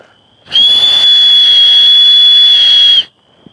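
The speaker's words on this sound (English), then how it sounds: "Number one, it has a whistle on it" A single loud, shrill blast from a whistle built into a survival buckle, held steady for about two and a half seconds, then cut off sharply.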